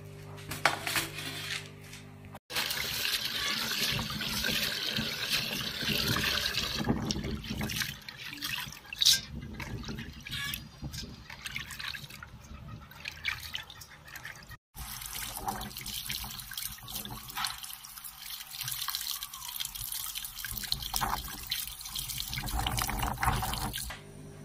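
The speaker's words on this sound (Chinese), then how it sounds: "现在这些食材给它清洗干净一下" Soybean sprouts and other stir-fry ingredients are rinsed by hand under a running kitchen tap, with a steady close rush of water splashing into the sink and brief breaks in the flow.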